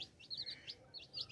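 Pigeon chicks of a red pigeon pair chirping in a loft, several short high chirps in irregular bursts, close and fairly faint over a quiet background.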